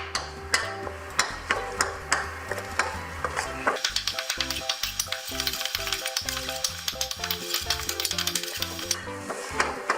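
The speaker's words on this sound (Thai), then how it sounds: "เราจะค่อยๆใส่กะทิเราก็ผัดไปด้วยนะคะ จนกว่ากะทิจะแตกมันนะคะ" Red curry paste is stir-fried as coconut milk is added little by little. A steady close sizzle runs under quick, rhythmic spatula scrapes and clicks against the pan, denser and busier in the second half.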